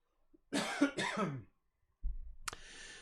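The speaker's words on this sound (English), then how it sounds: "Excuse me, I got a cough." Two quick harsh coughs close up, followed after a pause by a rough throat-clearing cough.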